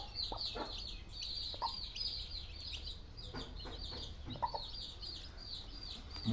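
A Yakut hen clucks softly beside her newly hatched chicks while the chicks keep up a continuous stream of high, thin peeping, close by and fairly quiet.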